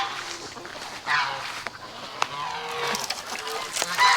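Geese honking near a farm pond on a smallholding, repeated loud overlapping honks close by with farmyard background noise and a voice talking underneath.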